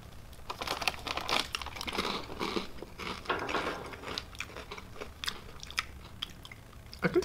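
Crunchy milk-flavored snack from the Philippines being bitten and chewed close up, with irregular crisp crackles and crinkling throughout, fairly faint and with no talking.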